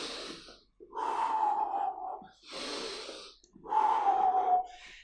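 Heavy, rhythmic breathing during a high-intensity bodyweight interval workout: three loud, drawn-out breaths, with forceful exhales through the mouth, close to the mic and without speech.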